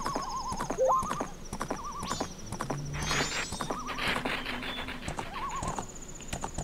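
A horse gallops in The Legend of Zelda: Majora's Mask, with rhythmic game hoofbeats, a few whinnies and chiming game tones layered on top.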